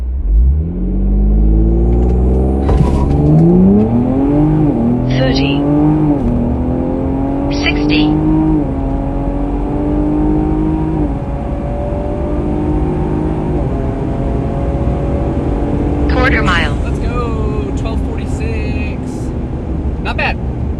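A tuned, air-bagged Ford Explorer ST runs a quarter-mile on a remote farm road. Its engine roars loud and close, climbing in pitch through several gear shifts before settling into a sustained high-speed drone.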